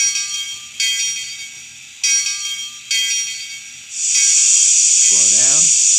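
A Bachmann DCC On30 HK Porter 0-4-2 model locomotive rings its bell, four sharp clangs in a steady rhythm that fade between strikes, followed by a loud continuous steam hiss.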